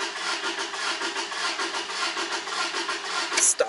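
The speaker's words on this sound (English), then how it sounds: "can hear the crankings" A car engine with its EFI fuse removed cranks without starting, the starter churning in a steady, fast, even rhythm throughout, close and fairly loud, with a brief click near the end.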